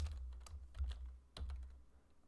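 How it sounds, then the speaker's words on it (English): Keys on a computer keyboard clack in a short burst of quick, faint taps during an Excel VBA coding walkthrough, with low hum beneath and no talk. "we'll start typing the keyword select"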